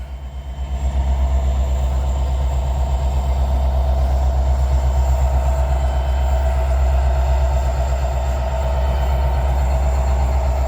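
A freight train rumbles past close by, a steady low rolling roar of wagons on rail with a faint engine hum, sustained and loud with no talk.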